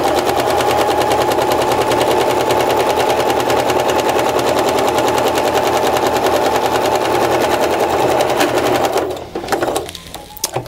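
A sewing machine stitches vinyl on boots, a fast loud rapid-fire mechanical chatter running steadily for several seconds before slowing and stopping, followed by a few handling clicks.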